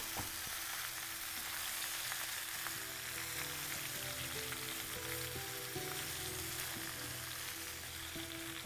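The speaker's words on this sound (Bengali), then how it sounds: "আমলকিটা দেওয়ার পরে এটাকে ভালো করে আপনাদের মিশিয়ে নিতে হবে।" Amla pickle mixture sizzles gently in a pan as it is mixed, an even, fairly quiet frying hiss holding steady throughout with no speech.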